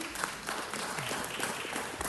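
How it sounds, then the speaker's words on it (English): An audience at a Los Angeles City Council presentation bursts into applause, a dense, even wash of clapping that carries steadily without a break. "That deserves a round of applause."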